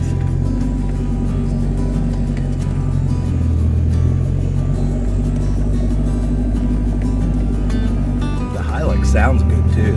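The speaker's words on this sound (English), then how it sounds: "Sounds good too, that diesel." A diesel off-road vehicle's engine drones low and steady as it climbs a trail at Flagpole Knob, Virginia, with people talking over the rumble and a brief shift in pitch near the end.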